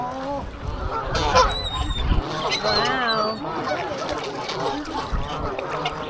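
Geese honking nearby at Pymatuning State Park by the spillway, repeated loud honks overlapping with ducks and rushing water, a person briefly exclaiming over them.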